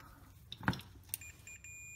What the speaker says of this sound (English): we're going to put our meter on continuity test. Beep.